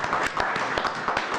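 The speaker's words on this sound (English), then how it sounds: "I'd like to just give Grant a nice round of applause" A round of applause at a village board meeting: a dense, fairly close patter of many hands clapping, steady and uneven throughout without a break.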